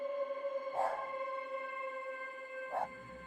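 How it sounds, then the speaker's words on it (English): Dogs bark outside at night, two faint, distant barks a couple of seconds apart over a steady tonal hum, with no speech. "you can hear other dogs barking at something else"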